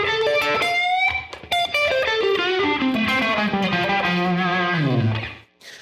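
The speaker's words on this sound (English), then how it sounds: "just kind of a fast minor pentatonic run" A distorted electric guitar plays a fast, flowing minor pentatonic run of single notes in a slow blues style that descends and ends on a sustained low note, loud and alone.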